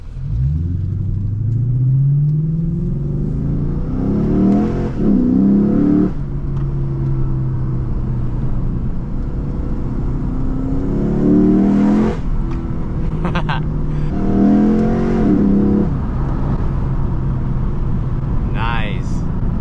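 Lexus IS F engine heard from inside the car with the windows cracked, revving repeatedly: a loud, deep rumble with intake induction roar surging in several climbs and drops, while people talk over it now and then.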